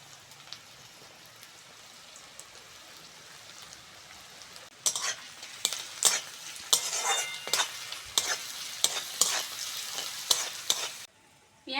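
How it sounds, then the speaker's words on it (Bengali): Onions frying with salt in a pan, a quiet low sizzle that turns into louder crackling and a run of brisk stirring scrapes and clatters before cutting off near the end. "পেঁয়াজটা ভালো করে ভেজে নিয়েছি"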